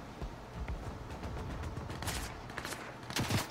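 Gunfire in a Fortnite match: bursts of rapid shots and sharp cracks over a dense, noisy background, with louder clusters of fire toward the end.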